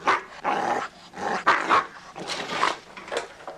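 A dog barks and growls in short, close, aggressive bursts at a rapid uneven rhythm, loud and alone with no talk.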